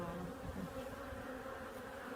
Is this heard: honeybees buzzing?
yes